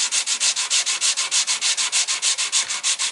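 A flat sanding block is rubbed back and forth over a bandsawn wooden guitar neck headstock in a steady, rapid, evenly pulsing rasp, close and loud, with no talking.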